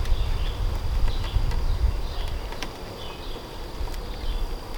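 A low, steady hum of honeybees buzzing close by in an open hive, with occasional brief higher buzzes passing through.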